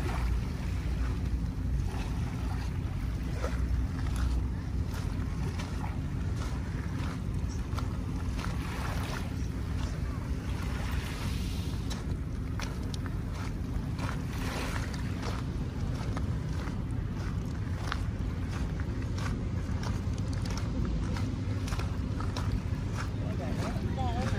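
Continuous wash of waves at high tide on the Manila Bay shore at Dolomite Beach, a steady close rumble mixed with wind buffeting the microphone, with no clear breaks.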